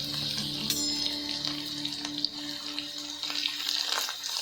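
Mung sprouts fry in a pan with fresh coriander leaves and chili paste, making a close, steady sizzle with stirring scrapes and small clatters and no voices.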